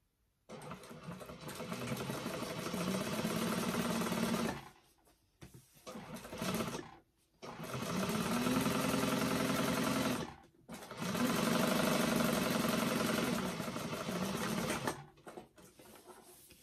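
Sewing machine top stitching a bag, running in three long loud bursts with brief pauses between them, steady motor whir throughout each run.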